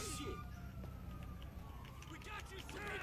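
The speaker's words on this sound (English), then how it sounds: "Police car." A police car siren wails in the video game GTA V, faint and steady behind game noise and a voice.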